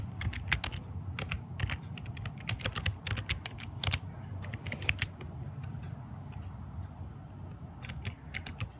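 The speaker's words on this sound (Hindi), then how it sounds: "तो चलिए अब हम यहाँ पे अपना कोड लिखते हैं।" Code is typed on a computer keyboard in quick, irregular bursts of crisp key clicks close to the microphone, with short pauses between runs and a low background hum.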